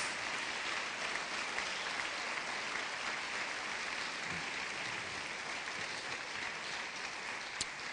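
Steady, vigorous applause from a church congregation, a continuous wash of many clapping hands that holds at an even level throughout.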